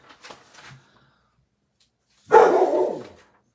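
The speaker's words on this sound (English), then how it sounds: "now there my dog's going to bark at somebody." A single loud dog bark bursts out indoors after a second of near silence, preceded by a few faint, brief sounds.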